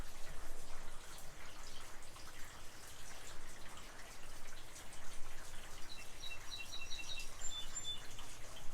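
Faint bird chirps high and distant over a steady outdoor hiss, with a few short calls near the end.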